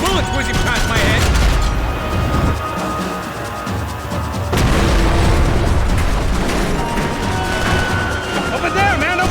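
Gunfire and explosive bursts in Max Payne, a loud, continuous barrage of shots and booms with voices shouting over the fight.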